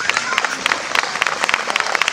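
An audience applauds the tenor soloists of a church parish brass band in Tarnowskie Góry, with dense, steady clapping from a crowd, fairly loud and close, while a voice speaks over it.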